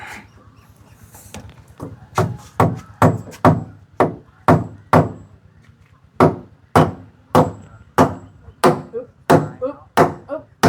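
Nails are hammered into wood with about twenty sharp, close strikes in a steady, slightly uneven rhythm, each a loud crack with a short ring, over a faint low background hum.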